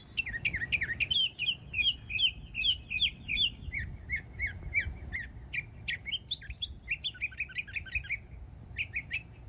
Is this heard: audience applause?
no